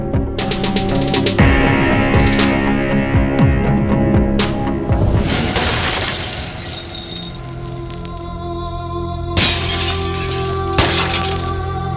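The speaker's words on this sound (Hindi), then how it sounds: "कांच टूटने की आवाज सुन के अमर अमर से अकबर बन जाता है।" Glass shatters loudly in a film scene, a burst of crashing shards followed by scattered tinkling pieces. A second, sharper break comes near the end.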